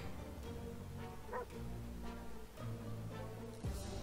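Dog barking in the video game 60 Seconds: a run of yips and bow-wows with a whimpering tone, moderately loud and close, fading in and out over a game backdrop.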